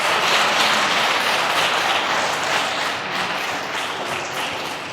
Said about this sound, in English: A round of applause for Atioluwa,